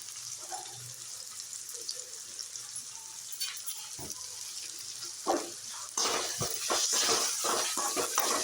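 Tomatoes with salt, curry leaves and mint sauté in a pan for chicken gravy, giving a steady close sizzle that grows louder and busier toward the end as stirring scrapes and clatters come through.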